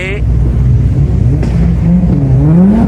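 An old Mustang revs loudly at a car meet, its engine drone rising and falling under crowd noise and nearby chatter.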